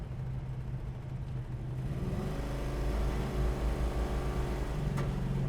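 A 1970 Dodge Dart cruises steadily, its engine holding a low, continuous rumble with road noise that swells slightly partway through, close and fairly loud, with no voices.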